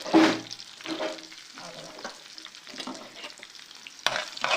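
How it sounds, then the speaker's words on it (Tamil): Crushed ginger and asafoetida sautéing in a pan over a medium flame, giving a soft sizzle. A sharper burst at the start and a brief clink near the end come from stirring against the pan. "இது வந்து மீடியம் ஃப்ளேமில் இது கொஞ்சம் லேசாக வதங்கிட்டு இருக்கட்டும்"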